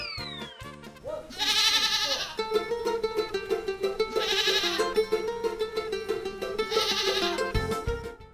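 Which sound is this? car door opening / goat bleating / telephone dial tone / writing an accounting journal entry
goat bleating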